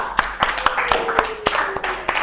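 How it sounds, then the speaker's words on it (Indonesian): Classroom clapping after a teacher's prompt, with about ten separate, sharp claps spaced irregularly over a couple of seconds over low room noise, with faint background voices. "kasih tepuk tangan dulu ke San Saman"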